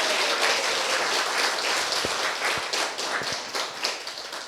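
At a Korean church book concert, an audience applauds a singer after a hymn, giving a warm, sustained wash of many hands clapping throughout, with a few louder close claps in the middle.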